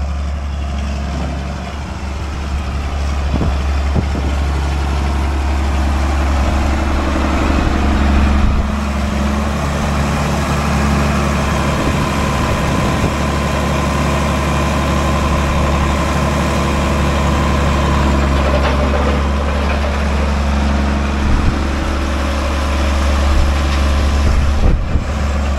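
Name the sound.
tractor engine idling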